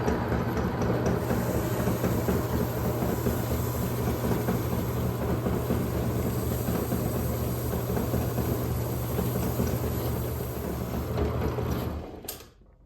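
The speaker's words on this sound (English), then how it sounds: "I'm going to use this scuff pad. I think I got this from Harbor Freight, just to polish up the brass here." Brass .308 cartridge case polished with a scuff pad, heard as a steady, close, dense scrubbing and whirring rub that runs continuously for about twelve seconds before cutting off abruptly near the end.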